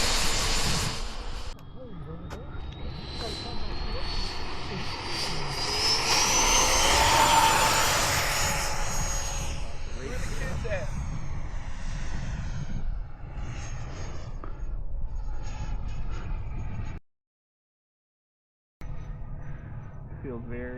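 A Raptor Lite RC model airplane flies at a model airfield, its engine drone swelling and fading as it passes, with people talking nearby, then a brief dropout of sound before the engine noise returns.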